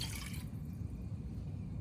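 Apple cider vinegar poured into a barbecue sauce mixture of ketchup and water, a brief soft liquid splash and trickle fading into low, faint background noise.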